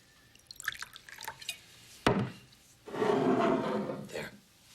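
A drink is poured into a glass, with light clinks and drips early on, a sharp clink of glass, then a few seconds of steady liquid splashing, close and clear.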